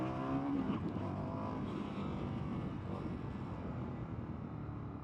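An Indian FTR 1200 motorcycle engine runs at a steady idle, with parts rattling from heavy vibration. The low, continuous drone is close and moderately loud, with no speech.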